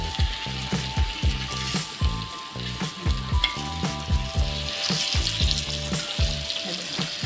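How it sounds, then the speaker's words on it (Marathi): Pomfret fish shallow-frying in a pan, a loud continuous sizzle and crackle close up with rhythmic bubbling spatter throughout, no talking. "ही साईड सुद्धा ना आपल्याला मस्त अशी खरपूस अशी फ्राय करून घ्यायची।"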